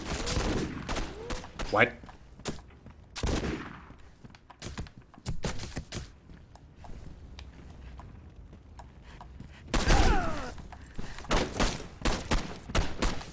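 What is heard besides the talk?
gunfire from a gun in the video game Condemned 2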